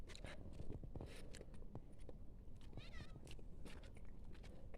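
A cat meows several times close by in a Kerala village kitchen while dried fish is being prepared. Short clicks and scrapes from the kitchen sound around the meows.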